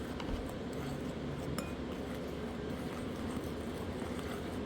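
All-purpose flour, rice flour and erythritol stirred together in a bowl, giving a faint, steady scratchy rustle with light clinks against the bowl and no talking.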